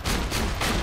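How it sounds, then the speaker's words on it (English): Heartbreaker shotgun in Borderlands 2 firing in a game, loud, dense blasts with bursts around the start, middle and late, packed close together with no pauses and no voices. "when you fire the weapon, the grouping of the shots is in a heart shape"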